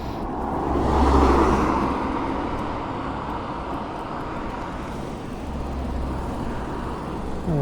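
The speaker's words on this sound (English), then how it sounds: "I'm going to let that car go." A car passing on an open road with no bike lane, its engine and tyre noise rising to a peak in the first seconds and then fading into a steady traffic rumble.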